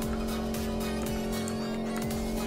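A car in Project Wheels boosts into a jump with a loud, sustained engine roar and a steady high tone, while a few low swooping surges recur underneath.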